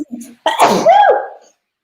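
One loud, close sneeze: a quick breathy intake, then an explosive burst trailing off into a short voiced tail, followed by silence.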